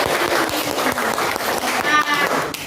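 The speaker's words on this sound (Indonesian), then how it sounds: "Jadi beri aplaus dulu untuk kegiatan kita." Audience applause at a community gathering of women, a steady wash of clapping filling the whole stretch at moderate loudness, with some voices mixed in.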